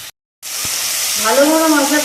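After a brief silent gap, spice masala fries and sizzles in oil in a pan with stirring, a loud steady crackle as a voice speaks over it, for an elephant foot yam curry.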